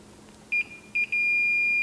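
A multimeter on continuity test gives two short electronic beeps, then a steady sustained tone as the probes hold contact, clear and close with nothing else around it.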